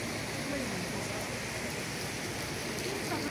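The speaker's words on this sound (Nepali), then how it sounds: "अझै पानी बर्सात भइरहेको छ।" Heavy, steady rain pours down continuously during prolonged flooding, a dense broadband hiss at a constant level with no breaks and no talking.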